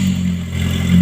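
Car engine with a fuel injection system idling after starting, a steady close mechanical hum with slight rise in revs near the end.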